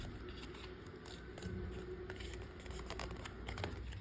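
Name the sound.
paper being folded in and back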